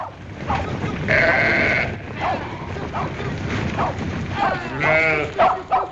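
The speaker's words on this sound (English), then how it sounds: "Come on, get them sheep moving." Several sheep bleat over one another in a noisy flock, with a steady rumble of movement beneath and one loud bleat near the end.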